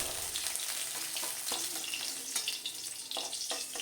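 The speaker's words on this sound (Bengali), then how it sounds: "কুমড়োগুলো কিন্তু খুব ভালো করে নেড়ে চেড়ে লাল লাল করে ভেজে নেব" Steady, close sizzling of pumpkin frying in hot oil, with occasional stirring clinks and bubbling crackles throughout, no voices.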